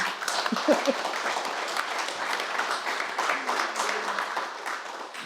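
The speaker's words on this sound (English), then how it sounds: "That's a round of applause." An audience applauds steadily for several seconds, a dense, even wash of clapping heard from a moderate distance.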